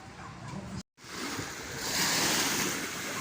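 Black Sea surf washing onto a crowded Odesa beach, a steady broad rush of waves heard close with wind buffeting the microphone and a brief dropout near the start.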